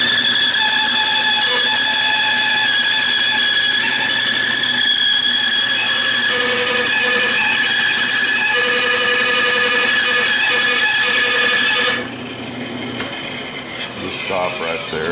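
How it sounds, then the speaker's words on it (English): A bandsaw cutting a 2-inch wooden board in a workshop: a continuous loud whine and rasp that holds steady for about twelve seconds, then drops away as the blade winds down. "So now it's a trip to the bandsaw."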